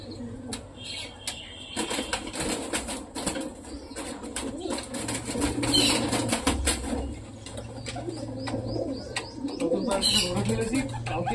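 A flock of pigeons cooing and chirping, with bursts of wing flapping, close and busy throughout, under occasional human talk.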